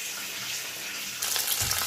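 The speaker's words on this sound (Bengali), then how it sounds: "একটু জল দিয়েছি, মশলাটা পুড়ে যাবে বলে।" Water goes into spice masala frying in a pan for a Bengali mochar dal: a steady soft sizzle, then a brief louder splash and hiss as the water hits the hot oil.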